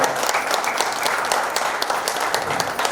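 Audience at a business seminar claps in a steady, dense wash of applause from many hands, loud and sustained throughout.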